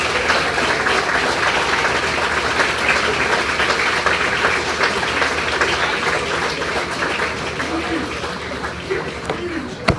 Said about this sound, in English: everybody give Jeff Chudy a round of applause.